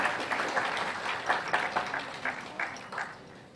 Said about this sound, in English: Can we have a round, bigger applause, please? Better applause.